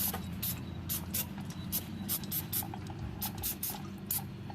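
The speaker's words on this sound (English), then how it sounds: "we're going to spray the brake hardware" Brake hardware on a 2003 Mercedes C230k is sprayed with cleaner in a series of short, sharp hissing bursts at close range, over a steady background hum.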